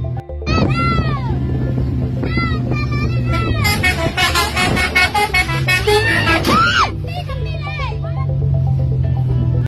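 Red bus sounding its telolet horn on the road, a string of loud warbling melodic toots that rise and fall in quick bursts, mixed with excited voices and traffic noise.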